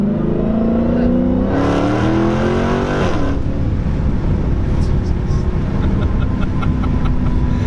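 A 2016 Dodge Challenger Hellcat accelerating hard, its engine note climbing through a loud rising roar, then a gear change and continued full-throttle pull, heard close with voices talking over it.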